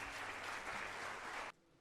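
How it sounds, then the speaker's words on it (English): An audience at an HR conclave applauds the chief guest, a dense burst of clapping from many hands that cuts off abruptly after about a second and a half, leaving quiet room tone. "A good round of applause for our chief guest, Dr. Arvind Prakash."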